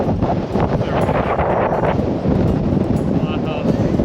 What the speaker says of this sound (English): Oh, it's again windy.